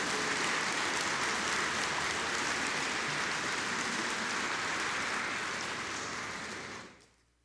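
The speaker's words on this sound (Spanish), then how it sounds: "Denle un fuerte aplauso al Señor." A church congregation claps together in sustained, dense applause at a Spanish-language sermon, holding steady before fading out and stopping near the end.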